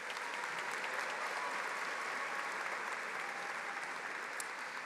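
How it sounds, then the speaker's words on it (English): An audience at a college commencement ceremony applauds steadily, dense clapping from a large crowd filling the hall at an even level throughout. "Please join me in applauding these special guests."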